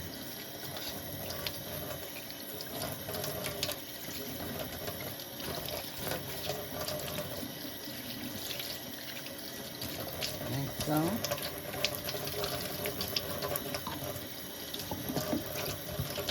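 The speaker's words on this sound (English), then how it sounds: "run some clean water in here" Cold water runs steadily from a tap into a sink, a constant splashing hiss throughout, with a brief spoken remark over it.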